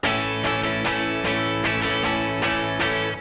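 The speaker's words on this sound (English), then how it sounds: "So without the mutes, it would sound like this." Steady acoustic guitar strumming, chords ringing full and sustained with rhythmic down-and-up strokes and no choked or muted hits, close and clear.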